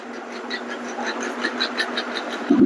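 An electric hair clipper buzzes steadily and closely through a men's haircut, with a constant mechanical whir and slight flutters in tone as it moves up the head.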